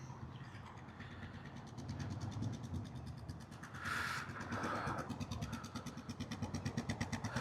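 A Royal Enfield Classic 350 motorcycle engine runs nearby with a quiet, steady rhythmic thump and a brief louder burst partway through, fairly faint overall with no talking.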